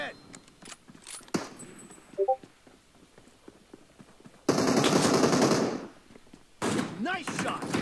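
PUBG Mobile gunfire: quiet clicks and scattered shots, then two loud sustained bursts of automatic fire, with a person talking in between.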